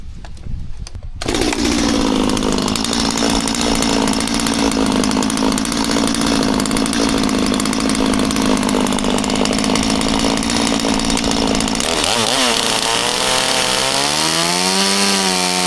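A loud chainsaw carving wood runs steadily at full throttle for most of the clip, then its engine pitch wavers and winds down near the end.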